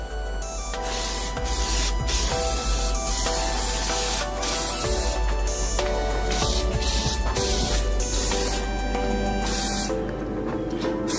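A heavy final coat of spray paint goes onto a car center console in repeated close hissing bursts with short pauses between them, alongside faint rubbing and clattering and no speech.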